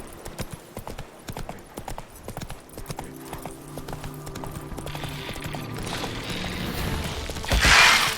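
A horse's hooves clip-clop at a steady trot in The Witcher 3 video game, close and clear, with creaking mechanical sounds and a rising rushing noise toward the end; no speech.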